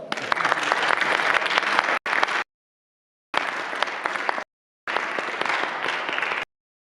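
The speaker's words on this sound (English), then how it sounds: "You can clap if you like." Festival audience at a Vaishnava gathering applauding after a poetry reading, bursts of many hands clapping that cut off abruptly and resume, loud and close between short silent gaps.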